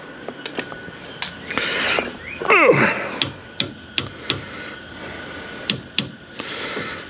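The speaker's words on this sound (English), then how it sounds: "Always need another hammer." Hammer striking a ball joint during front suspension installation on a 2003 Dodge Dakota, a series of sharp metallic blows spaced irregularly, with a brief scraping of metal partway through, close and loud.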